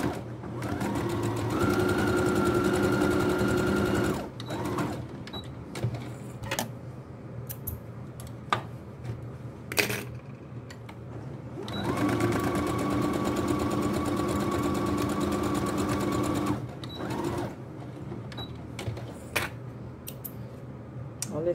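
A sewing machine stitches a zipper onto fabric for a triangular toiletry pouch, running in two sustained, rapid bursts separated by quiet handling clicks and taps.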